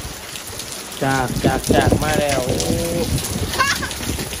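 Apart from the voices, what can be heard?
rain falling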